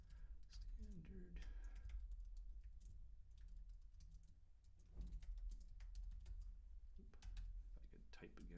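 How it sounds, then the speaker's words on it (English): Computer keyboard typing during a software demonstration on form validation, with light clicks and key taps running through the clip beneath a low steady background hum. "If I could type again here today."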